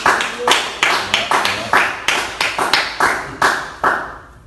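Clapping after a live song performance on a talk show: sharp, evenly spaced claps close to the microphone in a steady rhythm, about two per second, with no voices over them.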